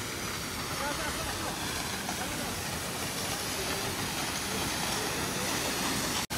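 The Seven Sisters waterfall in Lachung, North Sikkim, makes a constant, dense rushing roar of falling water that is even and unbroken throughout before cutting off abruptly.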